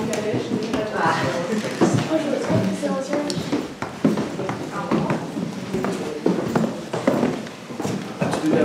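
Horse hooves clip-clop on snowy ground at a château, a steady irregular tapping under frequent nearby talking and outdoor crowd bustle.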